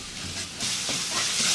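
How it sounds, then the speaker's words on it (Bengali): Spices and onion sautéing in a pan with a little water, garlic paste, salt and chili, a steady close sizzle that grows brighter and louder partway through, with stirring scrapes and no talk. "ভালো করে মশলাটা কষিয়ে নেব।"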